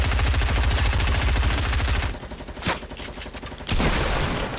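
Rapid automatic gunfire from the Fortnite Battle Royale video game, a dense loud burst of shots for about two seconds, then quieter scattered fire and a brief crack before another sustained volley.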